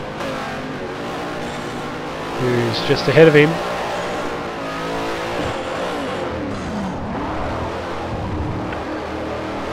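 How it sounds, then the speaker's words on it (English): In Forza Motorsport 4, a V8 Supercar locks its brakes with a brief tire squeal amid engine roar from the pack, while a commentator talks over the racing. "And just under brakes into there, a big lock up"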